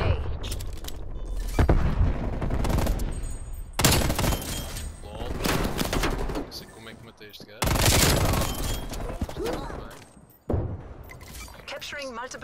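Rapid video game gunfire in a multiplayer shooter, with a teammate's weapon firing in repeated bursts and sharp crackling shots, loud and close, mixed with game effects and someone talking over it.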